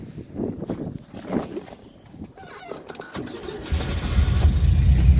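An old carbureted car engine cranks over and catches, settling into a loud, steady idle that builds and rumbles on through the final seconds.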